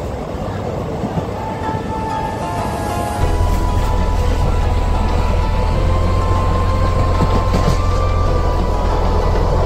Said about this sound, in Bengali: তো ট্রেনে যেতে যেতে আপনাদেরকে আমি কিছু দৃশ্য দেখাই